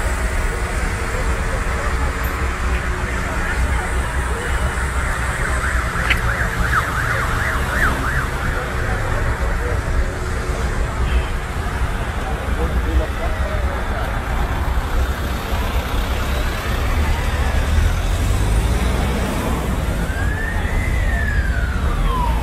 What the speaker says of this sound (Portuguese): Tá vindo uma viatura ali, ó. Tem uma viatura vindo ali.